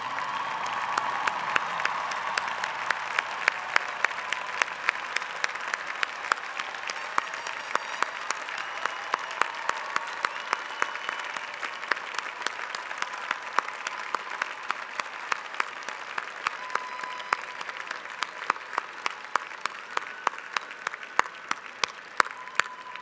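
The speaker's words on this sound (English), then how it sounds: "Class of 2018, please stand, turn around, and applaud your family and friends who supported through your studies and are here for you today." Graduates at a 2018 commencement ceremony stand and applaud their families and friends, a large crowd's sustained, even clapping that carries on at a steady level for over twenty seconds.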